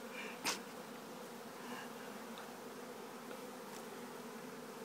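Bees swarm in a close, continuous buzz, with a brief sharp knock near the start and a few faint ticks later. No one speaks.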